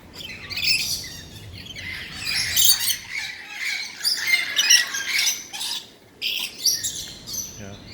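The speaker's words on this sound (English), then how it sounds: "there's just parrots who are just hanging around like this" Parrots squawk and screech over and over at a bird park, loud and close with overlapping harsh calls and chirps from several birds filling the whole stretch.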